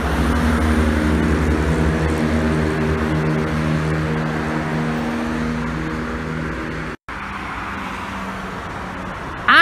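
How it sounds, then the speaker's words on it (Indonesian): A Mahardika Jetbus 3 coach bound for Wonogiri rolls past at the KM 429 Ungaran rest area, its loud engine hum carrying steady droning tones. The hum fades slightly, cuts out briefly, then returns with a louder burst at the end. "jet bus 3 topi tipis tujuan Wonogiri."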